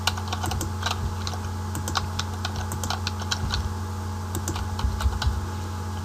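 Names are typed on a computer keyboard as a run of quick, uneven, close-up key clicks with occasional heavier strokes, with no talking.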